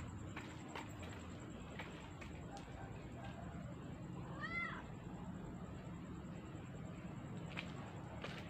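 A single cat meows briefly in a cemetery at night, one short rising-and-falling call at moderate distance amid faint background hiss and scattered footsteps.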